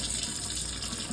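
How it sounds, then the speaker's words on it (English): Hot water runs steadily from a tap into a sink, a constant close hiss of flowing water with no voices. "I let the hot water run."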